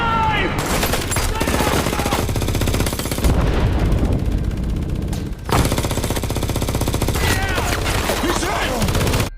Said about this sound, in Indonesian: Sesampainya di jembatan, mereka diserang tanpa henti, hingga Nikolai terkena tembakan di bagian perutnya.